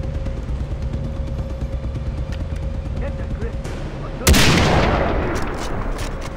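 A single loud rifle shot, likely from a sniper rifle, in Far Cry 3, cracking sharply and decaying over a steady game background hum with talk.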